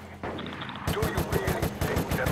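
Rapid automatic gunfire in the zombie shooter Resident Evil: Operation Raccoon City, a quick rhythmic burst of close, punchy shots rattling off one after another after a brief quieter lead-in.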